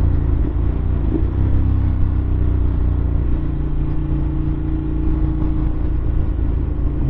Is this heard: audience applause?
no